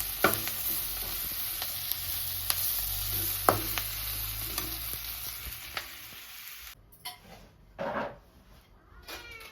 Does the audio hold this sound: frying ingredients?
yes